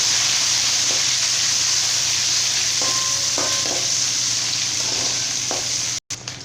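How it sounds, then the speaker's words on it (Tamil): Onion and fresh curry leaves sauté in oil in a pan for chicken gravy, a steady close sizzle with scattered stirring scrapes throughout, ending in a brief clatter and cut near the end. "இப்போ இது எல்லாமே சேர்த்துட்டு நல்லா வந்து வதக்கி விட்டுக்கலாம்."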